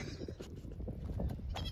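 Goat bleating outdoors on a hillside, a few short wavering calls over steady low background noise, fairly close and moderately loud.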